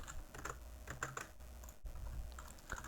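Typing on a computer keyboard during SQLite database work, a quiet run of irregular key clicks with a short pause midway, no voices.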